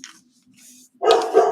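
A dog barks once, loud and close, after a brief faint whimper, in an indoor crafting room.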